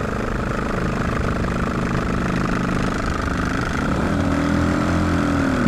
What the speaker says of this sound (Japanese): エンジン音じゃない、排気音、ドドドドドドっていう。